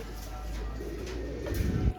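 A female dub pigeon coos softly at close range, low rolling murmurs over a faint background, with a brief louder rustle near the end.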